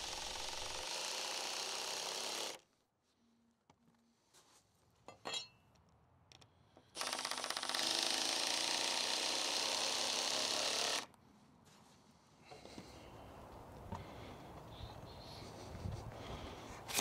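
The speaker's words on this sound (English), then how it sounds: "I'm using 4-inch deck screws to secure the mud sill to the rim joist." Impact driver sinking 4-inch deck screws through a shed floor mud sill into the rim joist, two long loud bursts of several seconds each with quieter handling and scraping between them, no talking.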